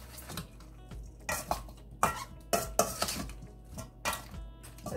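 A spoon clatters and scrapes against a bowl while watermelon chow is mixed, making irregular clinks and knocks with a few sharper taps, close and fairly quiet, with no talking.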